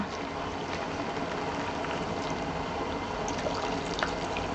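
Hot water is poured into a basin over an herbal compress ball, making a steady, unbroken splashing rush at even loudness throughout, with no voices.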